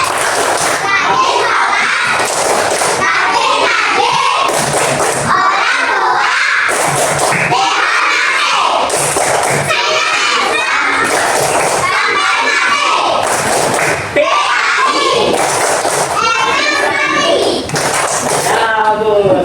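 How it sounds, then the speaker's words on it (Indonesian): A class of schoolchildren loudly chants the 'tepuk anak soleh' routine, voices shouting in unison with bursts of rhythmic hand claps at close range. "Ayo tepuk anak soleh."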